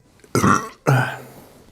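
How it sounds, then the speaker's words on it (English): A loud, close burp after sips of Monster Energy drink comes in two throaty bursts, the second trailing off slowly. "I'm about to burp."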